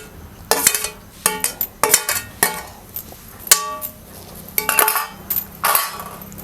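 Roasted onion, tomato, ginger and garlic ground on a stone slab with a stone roller for Kolhapuri misal: irregular hard knocks, scrapes and clinks of stone on stone, close and fairly loud, with no talk over them.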